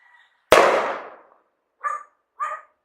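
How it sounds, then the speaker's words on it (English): A single sharp bang from a firecracker or gunshot outdoors in Mexico in December, close and loud with a fading tail, followed by two short dog barks. "I think that was a firecracker or a gunshot or something."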